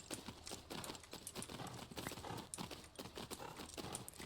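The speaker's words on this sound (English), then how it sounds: "now both legs, and we are now cantering" A horse canters in the video game Tales of Rein Ravine, its hoofbeats a quick, continuous rolling patter that sounds fairly faint and steady, with no talk over it.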